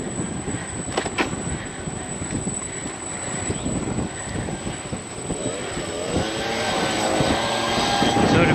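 A Bafang e-bike kit motor on a Sun X3 AX bike hums and whines during a ride, its pitch rising toward the end over wind and road rumble, with no voices.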